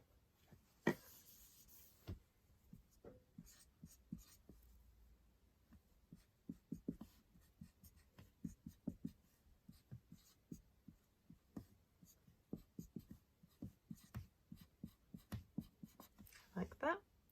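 Pen strokes sketch the product of a carbonyl reaction with cyanide, giving a long run of short, close, scratchy writing sounds in an uneven, steady rhythm.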